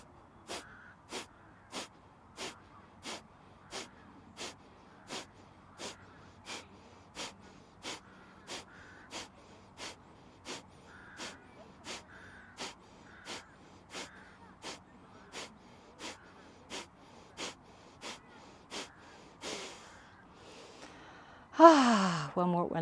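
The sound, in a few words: forceful rhythmic exhaling through the nose, breathing exercise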